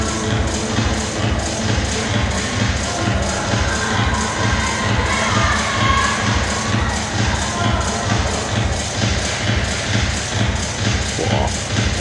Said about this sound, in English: ask the crowd to give him a hand